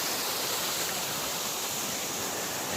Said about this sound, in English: This is the waterfall we came out to find initially